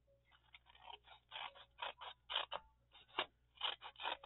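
Scissors snipping through a printed journal card from a scrapbooking kit, a quick series of close, crisp cuts in an uneven rhythm, quiet surroundings and no speech.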